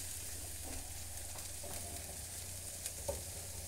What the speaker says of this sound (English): So there you can see the garlic puree, the peppers and the onions all nicely just cooking away.